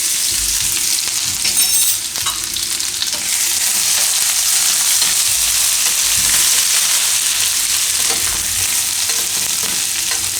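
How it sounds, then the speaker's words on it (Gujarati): Fresh green turmeric hits hot oil in a pan with a loud, steady sizzle and frying hiss, stirred now and then, heard close with no voice. "તો તેલ આપણું ગરમ થઈ ગયું છે. એમાં આપણે પહેલાં આ લીલી હળદર નાખીશું."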